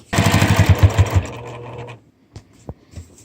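A sewing machine stitches through the layered fabric of a tissue paper holder pocket with a loud, fast, rhythmic clatter for about two seconds, then stops, followed by a few quiet clicks and handling sounds.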